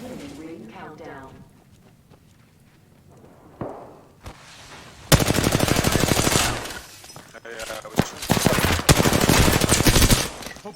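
Rapid automatic gunfire bursts in the online shooter Apex Legends, loud and dense for the second half after a quieter start, with game voice lines mixed in.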